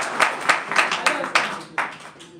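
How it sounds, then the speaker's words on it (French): A church congregation claps in a brisk burst of sharp, fairly close claps that thin out toward the end. "On peut les applaudir."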